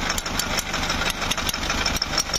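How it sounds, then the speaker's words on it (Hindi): A Tata Xenon Yodha pickup engine idles steadily after starting, with a continuous mid-pitched rumble and faint regular knocking pulses, close and fairly loud, with no talk. "देख पा रहे हैं कि इंजन हमारी स्टार्ट हो चुकी है"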